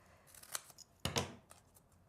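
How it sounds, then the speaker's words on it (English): Scissors snip through paper in two quick close cuts, each a short crisp rasp, heard alone in a quiet room during papercraft. "But I just cut this with scissors"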